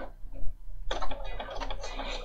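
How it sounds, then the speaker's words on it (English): Bernina 500 series sewing machine stitching in reverse: a quiet lead-in, then a fast, close mechanical clatter of needle and gears that runs steadily to the end. "And it's going to reverse sew."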